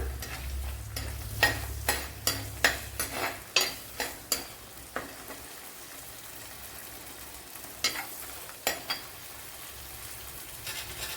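Green chillies fry in a pan as the base for a horse mackerel (vankada) fish curry. A spatula scrapes in a quick run of rhythmic strokes, pauses, then returns for a few more, over a soft sizzle.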